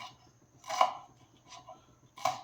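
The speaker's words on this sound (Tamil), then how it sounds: "மல்லி மெலிஸாக சின்ன சின்னதாக பொடியாக நரைக்கணும்" A knife finely chopping coriander leaves on a board: a few crisp, separate chops spaced about a second apart, close and fairly quiet.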